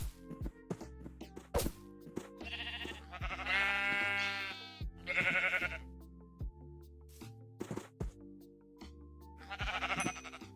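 Sheep bleat repeatedly in a modded Minecraft survival game, several loud, wavering game-style bleats spaced irregularly across the clip, alone with no talk, amid short knocking and clicking game sounds.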